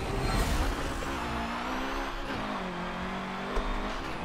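A Nissan S13 drifts in Forza 7 from the driver's seat, engine revving hard and holding a high droning pitch with shifting tones and tire noise, loud and continuous, no talking.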